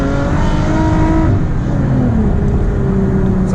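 A Lexus IS350 engine revs hard and steadily through a spin, its loud droning tone rising then sliding in pitch, with no talking.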